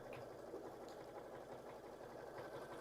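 An embroidery machine stitches out a design, giving a steady, fast mechanical whir and rhythmic needle chatter. It sounds fairly faint and even throughout, with no voices.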